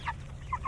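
Meat chickens in a chickshaw give a few soft clucks near the start and end, set against a steady low rumble.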